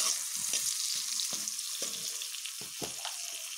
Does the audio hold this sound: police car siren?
no